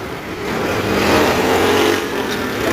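Heavy road traffic with car engines, a dense, steady roar of motors that swells slightly as vehicles pass nearby, continuous throughout with no speech.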